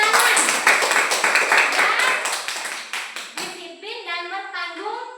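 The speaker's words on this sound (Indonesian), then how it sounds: "Tepuk tangan." Children clap their hands together in a classroom lesson, a quick burst of overlapping claps that fades out, followed by a short spoken exchange from a teacher.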